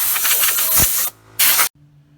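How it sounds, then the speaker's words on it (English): Compressed air blasts residue off a Volvo DP-C1 boat outdrive, two loud broadband hissing bursts with a short gap between them, then cutting to near silence with a low hum. "after each time, you need to blow it off with your air compressor to get all the residue"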